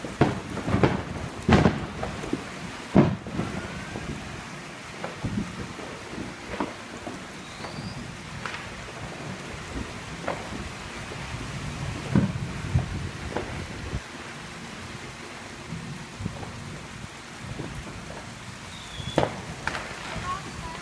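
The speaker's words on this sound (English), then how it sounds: "it's pouring now" A heavy desert downpour on the Fourth of July, steady hiss of pouring rain with sharp cracks and low rumbles of thunder, close and loud throughout, with people talking faintly underneath.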